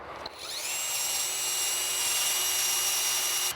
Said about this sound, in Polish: Teraz od tej strony nawiercę otwór, który przejdzie mi do tego elementu